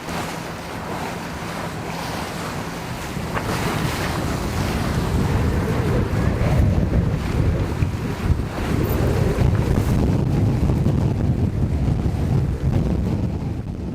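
A big williwaw gust of cold wind rushes down on a sailboat in a windy passage toward Prince Rupert, on the way to southeast Alaska in winter. Roaring wind and microphone buffeting build steadily over the noise of surf and water.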